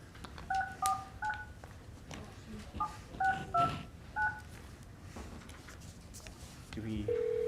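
Telephone keypad tones as a participant is dialed into a county commission meeting, a series of short paired beeps in irregular groups, then a steady ring tone; people talk in the room underneath.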